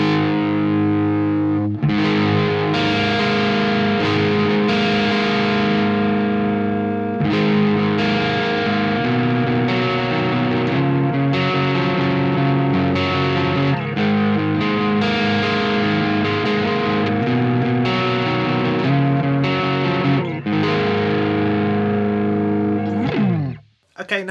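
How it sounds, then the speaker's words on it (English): Balaguer Synthwave Espada electric guitar played with its volume knob rolled back, a continuous, fairly loud driven tone with strummed chords and sustained notes ringing through the whole passage. "I'm going to roll the volume knob back on my guitar and we'll hear what it sounds like with the pickups rolled back."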